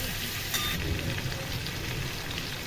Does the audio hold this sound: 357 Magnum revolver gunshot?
no